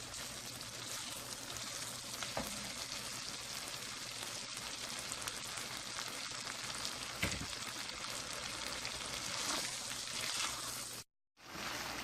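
Aloo gosht, meat and potatoes, frying in a pan gives a steady, dense sizzle with no talk. The sizzle cuts out briefly near the end.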